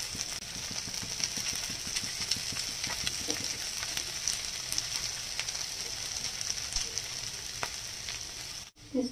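Shredded cabbage and carrot fry in a pan for mixed-vegetable paratha stuffing, giving a steady, close sizzle with soft stirring scrapes throughout, ending with a brief handling knock.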